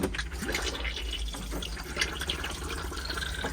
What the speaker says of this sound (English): and get a flow of water into the bowl